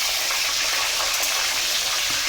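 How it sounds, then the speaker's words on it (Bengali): Fish heads fry in a karahi full of hot oil that splatters heavily, giving a loud, unbroken crackling sizzle throughout with no talking. "কড়াইয়ে ভীষণ তেল ছিটকাচ্ছে"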